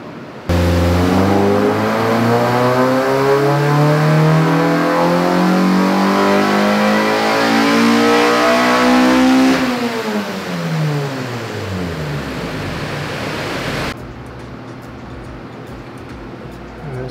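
A car engine on a dynamometer with variable cam timing set to 20 revs loudly and steadily up through a long sweep, then drops back down and settles to a lower idle, with no voices.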